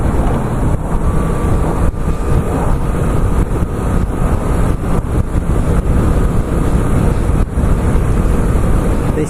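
Moto Guzzi V7 II motorcycle ridden under heavy throttle, its engine drone loud and steady throughout, mixed with strong wind rush and road noise.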